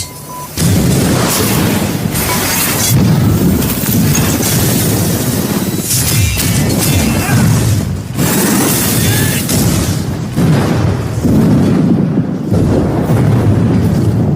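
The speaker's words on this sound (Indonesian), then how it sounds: "Grace langsung menekan tombol bom yang sudah dipasang di saluran pipa itu dan terjadi ledakan yang sangat dahsyat sekali." A massive bomb blast tears through a pipe tunnel as a film sound effect, a loud sequence of deep booming explosions and rumbling bursts that roll on continuously with brief dips between waves.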